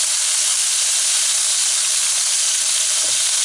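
Beef browning in two tablespoons of vegetable oil in a stew pot, a loud steady sizzle and hiss that runs continuously throughout, close and unbroken.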